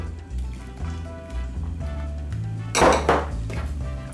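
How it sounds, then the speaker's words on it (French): Egg mixture for a vanilla and passion fruit crème brûlée is whisked briskly in a bowl as cream is poured in, giving a steady clinking scrape of metal on the bowl and a louder clatter near the end, with no talking. "Et très rapidement, on mélange."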